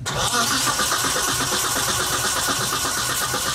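A car engine cranks on the starter during ECU base timing setup, a loud, continuous rhythmic churning close by that never catches, with no voices.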